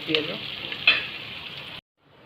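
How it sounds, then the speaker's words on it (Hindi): Onions sizzle and fry steadily in a pan for a kiwi-short stretch, close and bright, with a brief stir, then cut off abruptly into near silence. "पकईदे पियाज भल भाव में जारी दे।"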